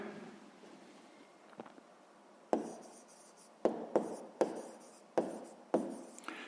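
A pen scratches across paper while a sixth-grade math exercise is worked out, first a faint quiet stretch, then a string of short, crisp strokes at an uneven rhythm, close and fairly soft.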